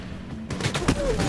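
Gunfire in Medal of Honor 2010: after a quiet moment, a burst of loud, rapid shots breaks out and keeps going to the end.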